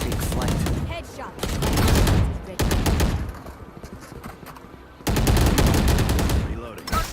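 Rapid automatic gunfire in the shooter game Valorant, coming in several sustained bursts of sharp, closely spaced shots separated by brief quieter gaps, loud and near, with a voice speaking between the bursts.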